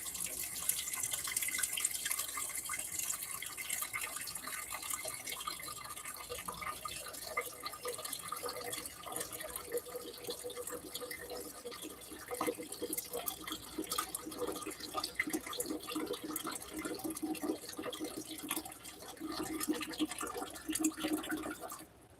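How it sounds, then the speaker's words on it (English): Water pours steadily from a Berkey filter into a pot in a kitchen, a continuous faint splashing and trickling stream lasting the whole time with small drip-like variations. "I'll put the water in here."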